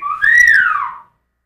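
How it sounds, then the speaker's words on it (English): A single clear whistled note glides up and then slowly down, loud and close in a studio, lasting about a second before silence. "Can you whistle again?"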